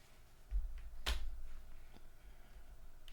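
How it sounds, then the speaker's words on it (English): Left and right buttons on a Lenovo 120S laptop trackpad click sharply, one crisp click standing out clearly with a couple of fainter clicks after it, against a quiet room. "Just check that left click and right click are working okay"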